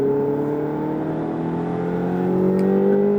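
A Ferrari accelerates on a driving course at Issoire, its engine note rising smoothly in pitch as it gains speed, loud and close with no talk over it.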